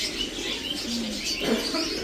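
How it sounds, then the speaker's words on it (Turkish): Several birds chirping and cooing together in an enclosed pet shop, a busy layered chatter with a low coo and a brief flutter of wings. "Orada da Ay, bir sürü kuşlar."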